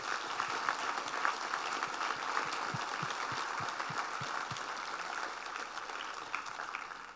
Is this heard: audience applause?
yes